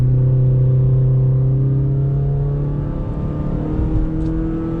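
A 2020 Honda Fit hatchback rolls slowly on light throttle, with a steady low engine hum and faint road rumble inside the cabin, its pitch easing gradually, and no one speaking.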